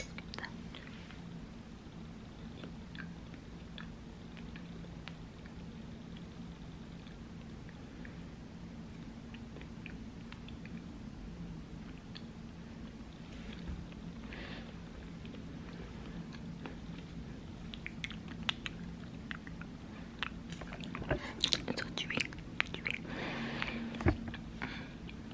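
Close, quiet ASMR chewing and biting on something chewy, soft wet mouth sounds under a faint steady hiss, growing busier and crisper toward the end.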